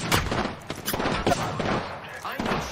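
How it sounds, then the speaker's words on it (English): Gunfire in the Apex Legends video game comes as rapid, dense bursts of shots and thuds crowding together over a few seconds, loud and close, with the player's voice mixed in. "Taking fire."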